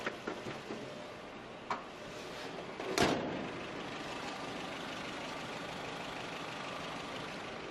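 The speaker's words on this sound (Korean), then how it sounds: "내연기관이지만 내연기관이어도 굉장히 정숙하고 조용한 엔진 소음이고요." A Honda Civic Hybrid's engine idles with a soft, steady quiet hum, with one brief thump partway through and otherwise an even, low drone.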